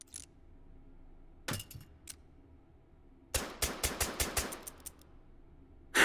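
A suppressed gun fires in the VR game Hot Dogs, Horseshoes & Hand Grenades: a couple of isolated muted shots, then a quick burst of about eight rapid cracks, against near-silence, with no voices.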